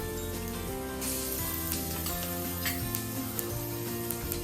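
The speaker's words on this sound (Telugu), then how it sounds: "పచ్చిమిరపకాయలు, కరివేపాకు, ఇవన్నీ వేయించుకుందాం" Ginger-garlic paste, green chillies and curry leaves frying in hot oil for tomato bath give off a steady, soft, even sizzle, with a faint tonal background layer beneath it.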